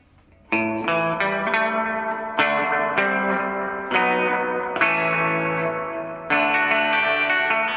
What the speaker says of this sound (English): So I'll turn on the presence switch so you can hear it.